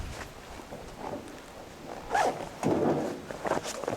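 A zipper pulled in several short strokes on a Helsport tent stove bag, sounding close and fairly soft, with a few brief rasping bursts.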